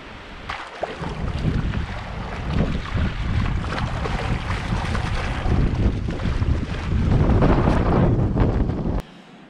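Strong wind gusting across a wavy lake in Woodland Caribou Provincial Park, a loud continuous roar with microphone buffeting and water wash beneath, cutting off abruptly at the end.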